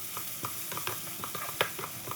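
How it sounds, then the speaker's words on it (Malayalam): Onions and chopped tomatoes sizzle in a pan for Punjabi dhaba-style dal tadka, a brief bright hiss punctuated by several sharp stirring clicks, close and fairly loud. "നമ്മളതിലേക്ക് അരിഞ്ഞു വെച്ചിരിക്കുന്ന, ചോപ്പ് ചെയ്ത് വെച്ചിരിക്കുന്ന തക്കാളി ചേർത്ത് കൊടുക്കുകയാണ്."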